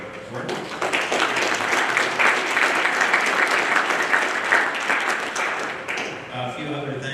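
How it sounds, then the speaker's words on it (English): An audience at a conference opening session in Detroit gives the host a round of applause, a loud, dense burst of clapping from a large crowd that swells and then tapers, with a voice speaking over its end. "So a round of applause for Ford."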